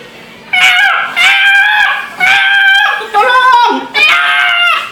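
A human voice mimics a chicken caught in a fence: five loud, strained squealing cries in a row, each a pinched wail separated by short gaps.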